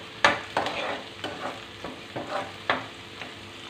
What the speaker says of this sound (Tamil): வெங்காயம் போட்டு நல்லா வதக்கட்டும்